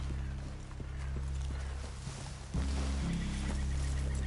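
Horses walking in a PS4 video game, their hooves clip-clopping in a steady, soft rhythm beneath a constant low hum of game ambience and music.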